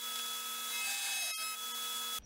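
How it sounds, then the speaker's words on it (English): Belt sander grinding a wood corner: a steady, loud motor whine with tonal harmonics and a constant rasp of abrasive on wood, a brief knock partway through, then it cuts off at the end. "And I'll get this last corner here at the belt sander."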